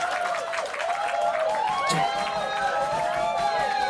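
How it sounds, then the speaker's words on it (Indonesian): Audience applause and cheering at the closing of a Manuver Super League dance performance: a steady, loud wash of clapping from a large crowd, with voices mixed in throughout. "sekali lagi kita berikan tepuk tangan yang meriah untuk Manuver Dance"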